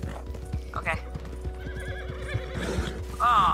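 Rhythmic clip-clop of a horse's hooves in a video game, with several whinnies and neighs over the galloping, close and fairly loud, and players talking over it.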